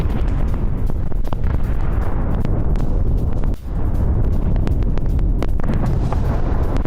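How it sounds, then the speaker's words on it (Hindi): Heavy booming blasts and crackling explosions near a Russian military base, loud and dense, with sharp repeated detonations over a roaring rumble and one brief dip midway. "रूसी बेस के पास जो भारी धमाका हुआ है"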